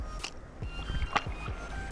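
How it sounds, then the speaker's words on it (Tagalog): Strong waves sloshing and slapping against a small fishing boat in a few rough surges, close by, with faint background noise and no clear speech. "malakas ang alon"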